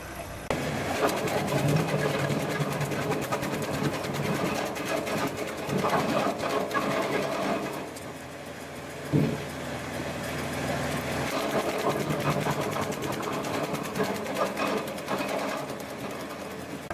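A TRS110 branch logger runs at 540 PTO RPM, giving a loud, continuous mechanical clatter and engine drone that holds steady for about seventeen seconds, with one sharp knock near the middle.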